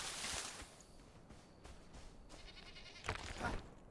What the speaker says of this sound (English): It's just goats.